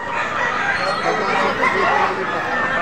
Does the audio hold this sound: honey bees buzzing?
no